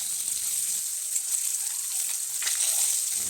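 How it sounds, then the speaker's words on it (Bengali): Boiled eggs rubbed with salt and turmeric fry in hot oil in a wok, a constant crackling sizzle at close range with a faint swell partway through. "তেলটা গরম হয়ে গেলে ডিমগুলো ভেজে নেব।"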